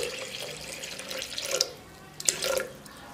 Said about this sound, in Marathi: आपण साधारण 2 वाट्या पाणी ओतू.